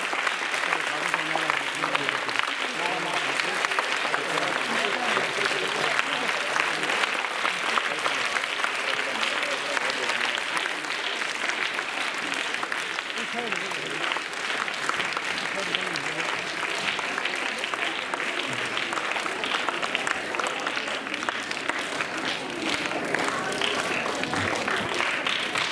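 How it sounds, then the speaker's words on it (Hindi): A large crowd at a Haryana state dance competition claps loudly and continuously to welcome Maharaj ji, sustained dense applause with voices mixed in. "तालियों में जोर होना चाहिए"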